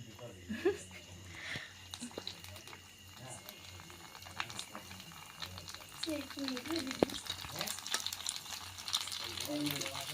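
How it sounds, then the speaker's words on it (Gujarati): Puris for pani puri frying in hot oil, a faint, steady sizzle with light bubbling under soft background voices and occasional kitchen clatter. "કેટલી પાણીપુરી તળવાની છે આપણે તળવાની"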